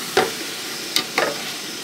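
Porcini mushroom pieces cooking in wine in a pan, bubbling in their own juices, give off a soft ongoing sizzle broken by a few brief clicks and pops, with no voices.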